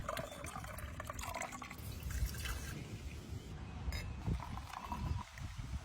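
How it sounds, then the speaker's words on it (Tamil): Curry leaf juice drips and trickles continuously through a strainer, close up, with soft wet spattering and faint clatter in the background. "இந்த ஜூஸ் அப்படியே வடிகட்டிக்கலாங்க."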